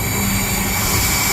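Train 70805 hauling wood from Carlisle Yard rumbles past, a steady broad roar of wheels and wagons filling the whole moment, close and loud without pause.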